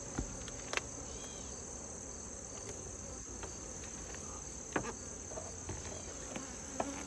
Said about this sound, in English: there's probably a few hundred bees here